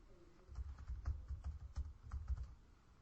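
Quiet, rapid clicking of a computer keyboard as a contact list name is typed, with an even run of keystrokes and no talking.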